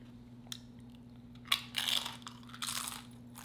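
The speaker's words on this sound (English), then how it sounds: "I'm gonna eat this one last chip with this juice." Close crunching and chewing of a chip, with a sharp bite followed by bursts of crisp crackling, then quieter chewing, and no talking.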